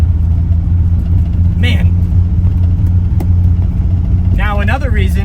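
An old Mercedes car being driven, its engine droning loud and steady close by with a low road rumble, while someone talks briefly over it near the end.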